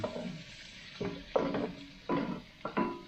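White onion sautéing in a pan during outdoor cooking of mussels, with a bed of sizzle under recurring stirring scrapes and clacks of a utensil against the pan, close and moderately loud.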